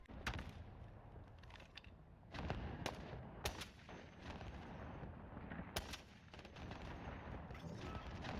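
Rytec AMR anti-materiel rifle fired in Call of Duty Modern Warfare, several sharp shots spaced a second or more apart, each a sudden bright crack over a steady rumbling game background, no talk.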